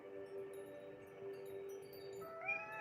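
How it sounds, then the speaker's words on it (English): A male house cat meowing and yowling while attacking his sister, a drawn-out tonal cry that rises in pitch near the end, fairly close and heard alone without talk. "my cat is being a bully and attacking his sister in ways he shouldn't be"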